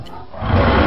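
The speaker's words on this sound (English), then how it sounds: "dinosaurs" A dinosaur roar, a short rough growl that swells from a quiet start into a loud, broad rumble and holds for under a second, with no talk.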